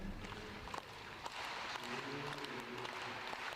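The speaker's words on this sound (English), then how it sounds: "They're clapping off." Audience applause in a dense, continuous patter of many hands clapping at moderate distance, with some crowd noise underneath.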